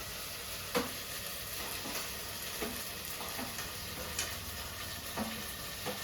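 Onion paste frying in a pan with garam masala, a continuous close sizzle broken by periodic soft taps and scrapes of a spoon stirring, no voices.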